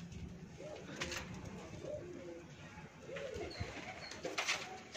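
Teddy pigeons, spotted Teddy birds kept by a pigeon fancier, coo in soft repeated low rounded calls throughout, with faint rustling and background noise around them.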